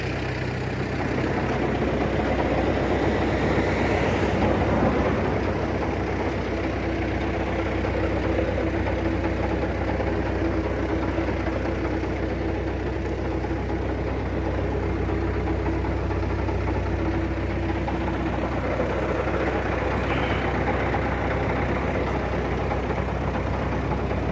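An MTZ-82 tractor engine, fitted with a Kverneland plough, runs steadily at idle, a low, continuous rumble with a faint knocking texture that stays loud and close throughout.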